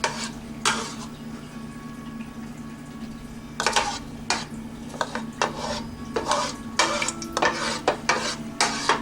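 A spoon scrapes lasagna sauce out of a container in a home kitchen, giving repeated close, sharp scraping strokes and clinks in irregular bursts, with no talking.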